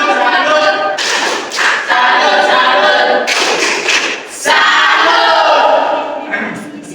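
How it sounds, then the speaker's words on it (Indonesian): A group gives a salute clap to group one in short, loud bursts separated by brief pauses. Voices chant and call out along with the rhythmic clapping. "Tepuk salut kepada kelompok satu."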